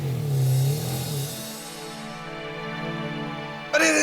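Car engine running during a drive, a low revving hum that drops to a steady drone, ending in a brief burst of louder noise.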